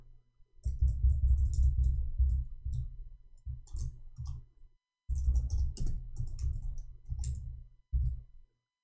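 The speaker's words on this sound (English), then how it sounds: "I'm going to type it for you." Computer keyboard typing in bursts of clicks and taps with short pauses, fairly close and alone, no voices.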